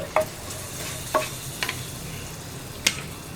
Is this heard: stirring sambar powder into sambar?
yes